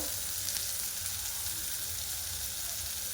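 Vegetables for veg hakka noodles stir-fry on high flame in a wok, a continuous dense sizzle and hiss, steady and moderately close, without talk.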